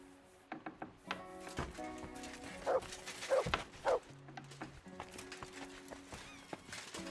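A dog in Kingdom Come: Deliverance 2 barks several times in short bursts at a medieval camp, amid hoof clops and a horse whinny, with low background game ambience.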